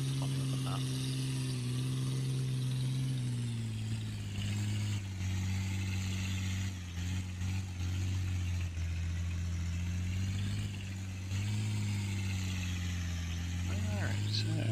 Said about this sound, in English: This tractor goes faster in fields than it does on the road.